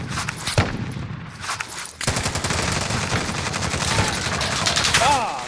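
Rapid automatic gunfire in Call of Duty: Modern Warfare, a few opening shots then dense continuous machine-gun bursts, loud and close, with voices shouting over it.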